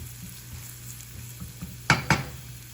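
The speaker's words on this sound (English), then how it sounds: "Saute the shallots until it's lightly golden" Shallots sauté in a pan toward golden for a Vietnamese fried egg roll filling, a faint, steady sizzle with two sharp utensil clacks close together near the end.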